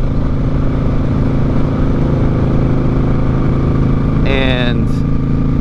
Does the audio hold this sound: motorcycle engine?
yes